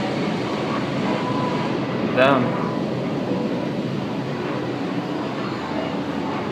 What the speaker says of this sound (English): The tram is now approaching Monte Carlo and Aria Resort and Casino